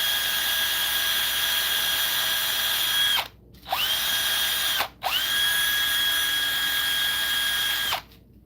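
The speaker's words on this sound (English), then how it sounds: "I'm just kind of polishing them up with a wire wheel" A wire wheel polishing old brake parts from a 1990s Mercedes: a loud, steady, high motor whine that drops out briefly twice, spins back up each time, then cuts off near the end.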